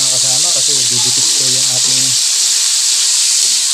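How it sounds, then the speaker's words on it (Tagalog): Meat sizzles and fries in a pan while cooking breadfruit in coconut milk, a loud steady hiss running throughout, with a person talking over it for the first half. "Papupulahin lang po natin at piprito."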